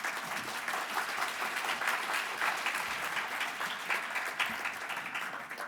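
A large audience at the National Japan Bowl championship gives the finalists a long, even round of applause, a dense, steady wash of clapping that fills the room from start to finish.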